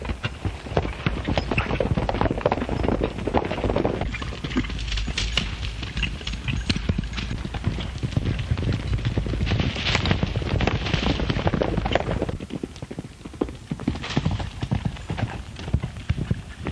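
Horses gallop in a rapid, dense clatter of hoofbeats under thick, continuous rumbling noise, loud and close throughout with no clear pauses; no one speaks.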